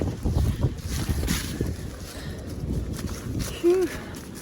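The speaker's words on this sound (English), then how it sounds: "A little windy." Gusty wind buffets the microphone on a mountain section of the Appalachian Trail, a loud rumbling roar alone at first and then easing, with a brief vocal sound near the end.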